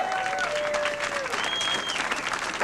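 A comedy club audience claps loudly and steadily throughout, a dense wash of applause with a few faint whistles over it.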